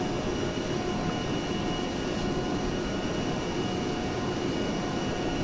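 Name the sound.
A-10C Thunderbolt II aircraft flying in ARMA 3 video game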